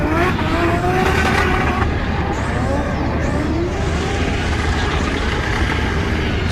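Drift car in competition at the Croix en Ternois circuit, engine revving hard with braking as it reverses toward a team, loud and continuous with broad engine roar throughout.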